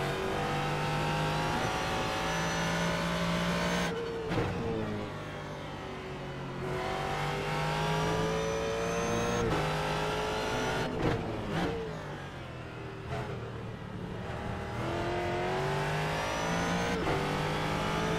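A Ford GT3 race car in the iRacing game at Circuit of the Americas holds a loud, steady engine drone, with sharp drops and climbs as it shifts and revs through corners, heard alone throughout.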